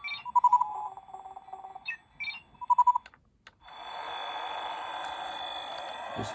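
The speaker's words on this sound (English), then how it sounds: "Beeping sounds as well." Electronic beeps from a Spin Master Batman toy set, two short bursts of tonal chirps and warbles close by, followed by a steady whirring, buzzing toy sound that carries on to the end.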